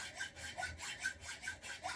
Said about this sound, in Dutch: Nou, ik zaag dus staal op maat.